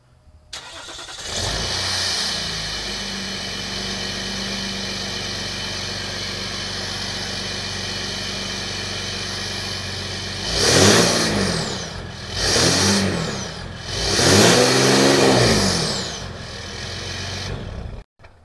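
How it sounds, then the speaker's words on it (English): A Ram EcoDiesel pickup truck engine with 82,000 miles cranks and starts, settles into a steady low idle, then revs up sharply three times before shutting off. "start the truck up so you can actually hear it."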